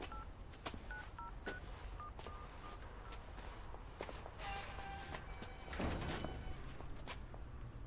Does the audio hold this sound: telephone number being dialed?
yes